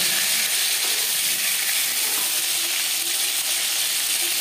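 Tuna pieces fry in a pan, giving a constant, fairly loud hiss and sizzle throughout with no breaks and no voices.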